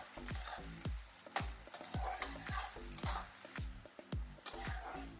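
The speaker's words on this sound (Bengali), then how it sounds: "পেঁয়াজটা আমি অনেক লাল লাল করে ভেজে নেব" Onions frying in a pan for a Bengali mutton kosha, with a steady sizzle under repeated sharp scrapes and knocks of a spoon stirring through the pan, fairly quiet and close.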